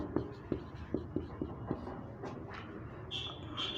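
Chalk or marker strokes on a board during a magnetism lesson, a series of sharp tapping scratches at a steady pace, close and moderately loud, followed by a few longer squeaky strokes.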